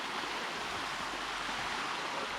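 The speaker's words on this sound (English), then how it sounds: "Dang, new waterfall." Steady rushing water pours continuously, a broad even roar like a waterfall heard close by, with no voices.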